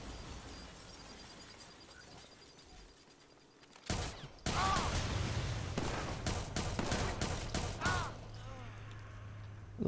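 HS rifle firing in the video game Watch Dogs 2: quiet game ambience, then from about four seconds a loud run of sharp gunshot cracks in quick bursts over a dense action soundscape.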